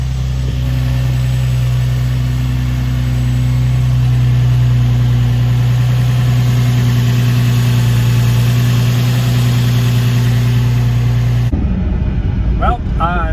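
A Nissan 350Z drift car's engine idles loud and close, holding a steady low rumble for about eleven seconds before cutting off abruptly; brief indistinct sounds follow.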